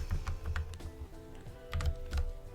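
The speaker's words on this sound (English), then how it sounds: "type the IP in there" An IP address being typed on a computer keyboard, a quick string of soft, close key clicks with a low background hum underneath.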